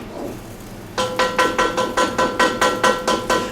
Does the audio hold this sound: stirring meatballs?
yes